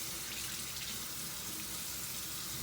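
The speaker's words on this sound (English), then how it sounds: "we're gonna run the water" Tap water runs steadily from a faucet into a bathroom sink, an even close hiss of flowing water with no talk.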